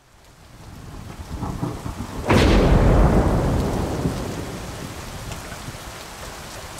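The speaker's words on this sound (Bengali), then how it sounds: "তখনই মেঘের গর্জন শুনতে পেল। কিছুক্ষণের মধ্যেই নেমে এলো ঝমঝমিয়ে বৃষ্টি।" A sudden loud thunderclap breaks over already heavy, pouring rain, then rolls into a long rumble that slowly fades while the downpour keeps hissing steadily.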